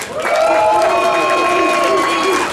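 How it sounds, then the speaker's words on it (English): Crowd at a live vaping-convention roast clapping and cheering loudly and continuously, with a dense wash of claps and voices close around. "So everyone give yourself a round of applause."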